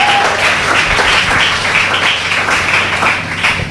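A church congregation claps loudly and steadily for nearly four seconds, a dense, continuous wash of applause filling the room.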